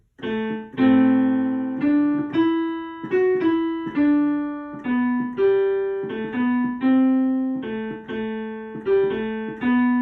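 A plucked or keyed melody in Dorian mode, minor-flavored, each note struck then decaying, played solo at a steady, moderate pace.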